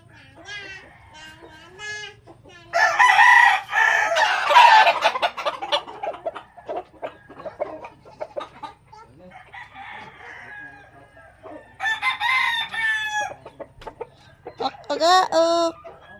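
Roosters crow repeatedly at a gamefarm in San Jose, San Isidro, Leyte, several loud nearby crows in bursts separated by quieter clucking and scattered bird calls, with soft background noise between.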